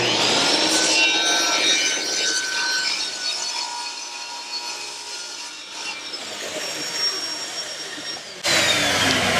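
A saw cuts through wood along a guide rail during work on a box-jointed jewelry cabinet. The cut is a loud, continuous mechanical whine and rasp lasting about eight seconds, then the tone shifts abruptly at the end.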